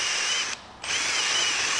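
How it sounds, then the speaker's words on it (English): Power drill boring holes through a scooter top case adaptor plate for a SHAD SH59X on a Piaggio BV400, a steady loud high whine that drops out briefly in the middle before resuming, with no talking. "you're gonna get a cleaner cut if you drill from the top"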